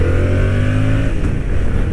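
A Yamaha MT-07 parallel-twin motorcycle engine revs up close and loud, its throbbing note rising then falling back over a couple of seconds.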